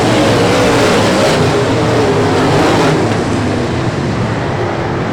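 Modified race cars roar down the front straightaway at Brownstown Speedway during an American Modified Series feature, a loud, continuous engine drone with no gaps, swelling slightly as the pack passes.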